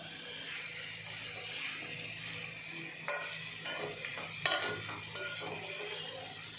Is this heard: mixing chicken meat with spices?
yes